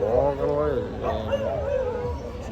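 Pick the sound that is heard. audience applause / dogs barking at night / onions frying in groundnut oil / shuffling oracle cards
dogs barking at night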